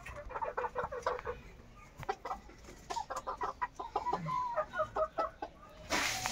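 Deshi and layer hens cluck and squawk in a small farm coop with roosters, short repeated calls coming close together in uneven bursts with brief pauses between them.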